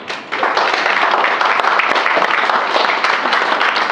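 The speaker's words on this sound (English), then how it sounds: "Can you please clap for her?" A lecture audience at a convention breaks into loud, dense applause, steady and close throughout after a brief quieter start.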